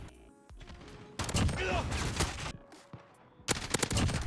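Rapid bursts of gunfire in Call of Duty: Modern Warfare crackle in clusters separated by short pauses, some shots sharp and loud, with faint game noise and possible voice between volleys.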